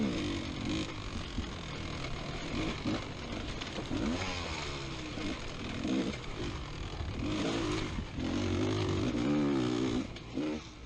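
A GASGAS XC300 two-stroke dirt bike engine revs hard and buzzes continuously during a woods race, loud and close with fluctuating pitch and rattling clatter throughout.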